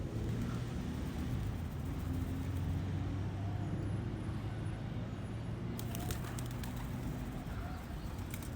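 Pigeons near Kew Bridge in London make faint cooing and flutter sounds over steady road traffic noise, with a few brief sharp bursts near the end; distant and blended into the outdoor background, no talking.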